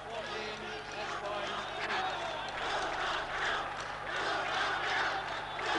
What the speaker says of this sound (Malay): Itulah sorakan yang diberikan oleh penonton-penonton penyokong-penyokong Malaysia